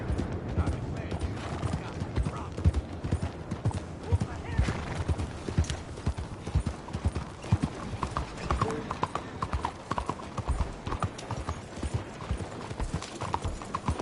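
Horse hooves clip-clopping steadily in the Red Dead video game, a continuous near rhythm of hoof strikes with a whinny and mechanical creaks, under occasional talk.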